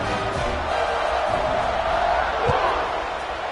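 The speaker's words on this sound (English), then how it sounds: "this crowd is buzzing after that last score" A dense stadium crowd roars as a steady, close wash of noise in College Football 26, with a commentator's voice running over it and a few faint thumps.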